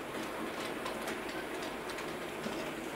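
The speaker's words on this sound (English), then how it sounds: "You can hear the wheels slipping a little bit, but it's not slowing down." A model Jubilee Class locomotive pulling a long freight train of box vans on a model railway track, giving a steady, loud, continuous mechanical whirr with faint rhythmic wheel clicks and no talking.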